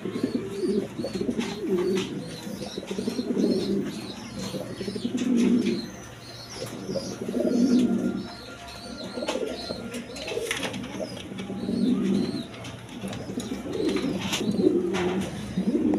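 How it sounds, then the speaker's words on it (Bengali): Domestic red pigeons coo in a steady series of low, rolling calls close by, with faint chirps and light rustling between them and no talk. "এইখানে এক পেয়ার শৌখিন কবুতর আছে, একবারে লাল কবুতর"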